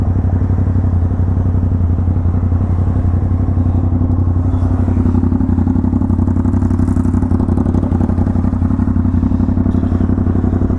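An Aprilia RS 660 motorcycle with an SC Project full-system titanium exhaust idles loud and close, a rapid, even, throbbing burble that holds steady throughout.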